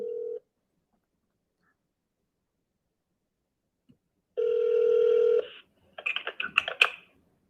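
A telephone ringing out on a call: a short tone burst, a pause of silence, then a longer steady ring, followed by a quick run of keypad dialing tones.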